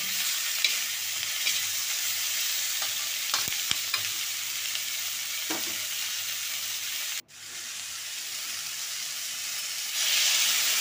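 Potatoes with garam masala and salt being stirred and fried for Bengali aloor dom, a steady hissing sizzle with occasional spoon scrapes, a sharp click midway, then the hiss growing louder near the end.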